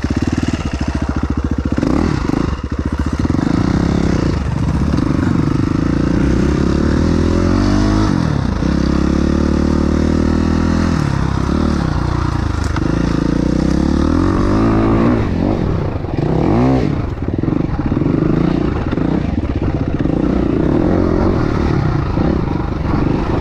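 A motocross bike revs hard in a gravel pit, its engine climbing and dropping repeatedly in loud close bursts with rattling clatter over a long continuous stretch.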